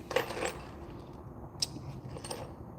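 Loose metal bolts rattle and clink inside a container as it is picked up and handled in a garage, in a few brief jangling bursts over a low background rumble.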